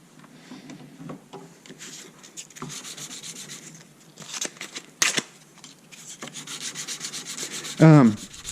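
Hand sanding on a knife handle, probably of wood, makes a steady scratchy rubbing made of repeated close strokes. A brief louder scrape comes near the end.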